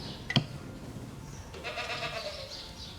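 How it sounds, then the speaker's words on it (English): Goats bleating at a farm food fair, a few short cries rising near the start and another stretch of bleats later, fairly close against a low background murmur. "The goats are mad to get in at this one, Siobhan."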